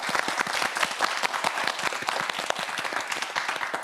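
A studio audience at a televised Korean science quiz show breaks into loud, sustained applause, with dense clapping throughout and no talk over it.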